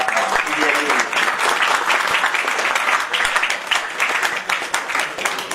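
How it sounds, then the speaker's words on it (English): Sustained audience applause fills a national seminar hall after a keynote lecture, dense steady clapping from many hands throughout, with a faint voice murmuring beneath. "A big round of applause to the registrar."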